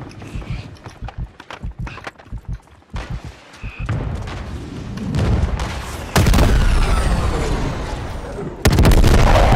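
Helicopter brought down by a grenade launcher in Call of Duty: Modern Warfare 3, with gunfire and booming blasts stacking up and two loud explosive bursts near the end, heavy and close.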